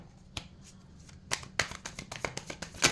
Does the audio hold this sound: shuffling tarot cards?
yes